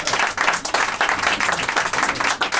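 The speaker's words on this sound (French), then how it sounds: "on a le droit d'applaudir" An audience bursts into loud, close, continuous applause, many hands clapping in a dense uneven patter for a few seconds with no speech over it.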